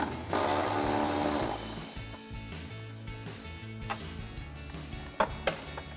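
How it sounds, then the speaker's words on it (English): A 10 mm socket ratchet with an extension loosens airbox bolts on a Toyota Tundra. A brief whirring burst comes first, then quieter, sparse mechanical clicks and a couple of sharper ticks near the end. "So now we can take our 10 millimeter socket with an extension. We're gonna remove this bolt here"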